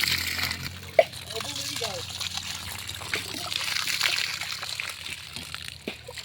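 Water from a newly installed deep well pump on farmland runs and splashes steadily, a continuous trickling gush with people talking over it.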